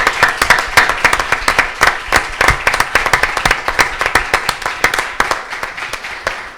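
Applause at a talk on finding one's purpose, a loud, sustained round of crowd clapping with sharp individual claps throughout, close and continuous for the whole stretch.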